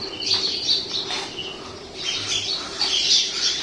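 Several birds, including gulls and parrots, squawk and chirp in bursts, shrill calls overlapping above a steady background hum, moderately close, at Kuakata.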